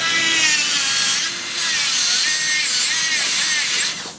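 A denture base being trimmed with a high-speed rotary tool makes a loud, continuous whirring grind with a whining pitch that wavers as the tool presses against the material.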